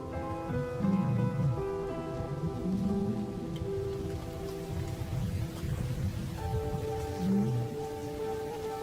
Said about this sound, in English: As the storm breaks, a month of pent-up energy is released.